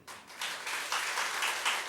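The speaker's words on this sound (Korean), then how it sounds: "우리 이민아를 위해서 박수 한번 쳐줘." A church congregation at a Korean-Chinese Sunday service claps for a sister named Lee Mina, a brief burst of brisk applause rising quickly and holding at moderate loudness for under two seconds.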